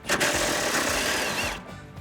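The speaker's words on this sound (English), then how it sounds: "you can grab your 10 millimeter socket, whether it be with a ratchet or an impact like this" A cordless impact gun fitted with a 10 mm swivel socket rattles and hammers on a bolt of a RAM 1500 front bumper, one close, loud burst of about a second and a half before stopping.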